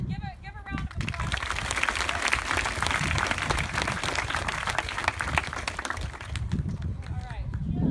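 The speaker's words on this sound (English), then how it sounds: "Give a round of applause" A room full of people at a PALS conference session breaks into dense, steady applause that fills the middle of the stretch, with voices audible at the start and end.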